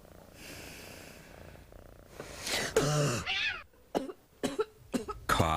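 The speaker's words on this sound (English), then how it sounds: "Cough waking you up in the middle of the night?" A person coughs at night in a cough medicine advert: a few quieter sounds first, then a run of sharp, separate coughs in close succession, near and fairly loud, with no talk over them.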